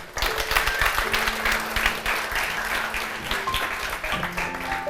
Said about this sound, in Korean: 지금까지 강연해 주신 우리 강용란 대표님께 뜨거운 박수 부탁드립니다